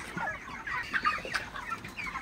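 Broiler chickens cluck and chatter together on a farm before dawn, a busy, overlapping flock murmur at moderate distance without talk.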